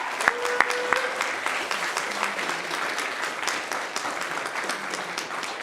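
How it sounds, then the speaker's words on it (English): Steady audience applause for candidates at a political party leadership debate, a dense continuous patter of many hands at moderate level lasting throughout, with a few sharper claps near the start and faint low voices underneath. "So let's, yeah, give them a round of applause."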